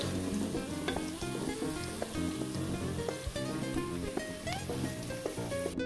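Chopped onion and garlic softening in a hot pan give a steady, close sizzle and frying hiss with occasional stirring scrapes, over continuous background music.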